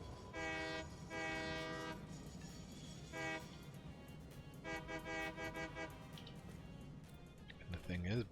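Train horn blasts in the factory-building video game Satisfactory, several sustained harmonic toots in short bursts over a low rumbling engine bed, with people talking alongside.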